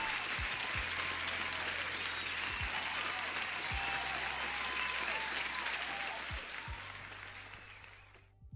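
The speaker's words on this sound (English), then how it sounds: "Huge applause." Steady applause sound effect plays on a forex and gold trading livestream, a dense clatter of clapping that holds level for about six seconds before tapering off at the end.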